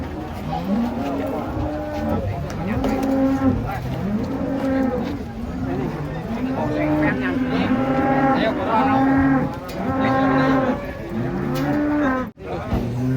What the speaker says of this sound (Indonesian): Sapi raksasa.